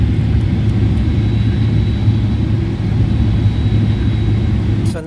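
A Boeing 737-800 engine in Microsoft Flight Simulator, a loud continuous low droning roar with a faint steady high whine running through it.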